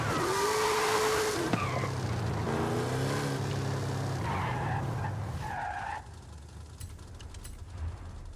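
A tuned Mexican supercar swapped to a 1750-horsepower racing V8 drifts in Forza Horizon 5, tires skidding and squealing in long shifting wails over a loud engine drone that cuts off abruptly, leaving quieter ambience.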